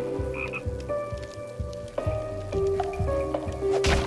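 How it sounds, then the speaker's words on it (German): Cartoonish frog croaks from the video game Toki Tori 2+, several repeated calls in an uneven rhythm over a busy layered game soundtrack with soft rain-like texture. "Da unten sind Frösche."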